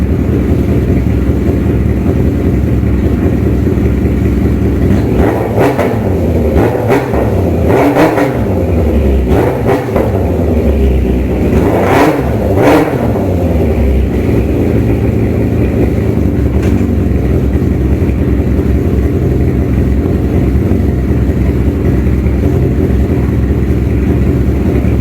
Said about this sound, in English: I'm just going to give it a couple of revs